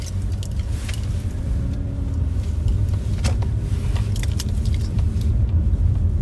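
A car drives out of a parking spot, its engine rumbling steadily at close range with a few light clicks and jingles over the low drone, no voices.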